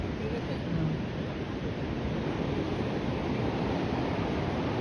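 Sea waves breaking at the seaside in Middlesbrough, heard as a steady, loud broadband wash of surf with wind rumble filling the whole stretch, no clear individual breakers.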